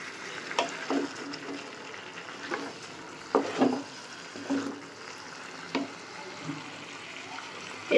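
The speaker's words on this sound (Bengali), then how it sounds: "এগুলো এবার কষবো, জায়গাটা একটু ছোট হয়ে গেছে, কষানো হবে, নাহলে কাঁচা মশলার গন্ধ বেরোবে" Marinated chicken wings and pieces coated in spices and beaten sour yogurt sautéing in a crowded pan, a low steady sizzle broken by scattered scraping stirs and clinks of a utensil, fairly close.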